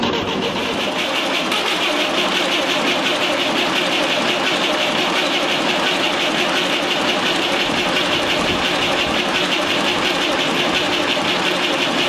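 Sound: small standard diesel tractor engine being started

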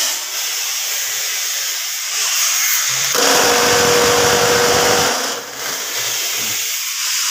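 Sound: concrete block press machine running

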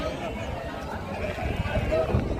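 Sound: sheep bleating

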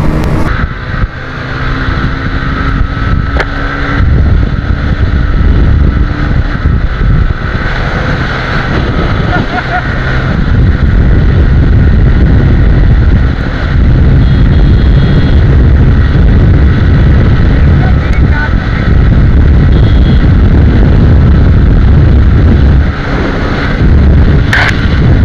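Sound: Bajaj Pulsar N150 and TVS Raider 125 motorcycles drag racing

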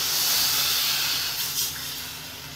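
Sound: water added to frying vegetables and masala, sizzling

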